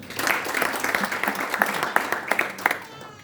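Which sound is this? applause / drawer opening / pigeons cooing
applause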